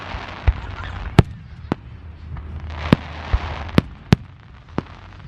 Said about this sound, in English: So we do fireworks on the 4th of July.